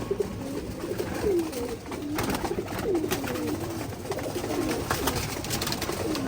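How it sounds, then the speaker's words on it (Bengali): Racing pigeons coo steadily inside their loft, soft repeated throaty calls overlapping from several birds nearby, with a light rustle of movement and no talking. "আমার এখানে কিন্তু বেশিরভাগই হচ্ছে রেসের কবুতর"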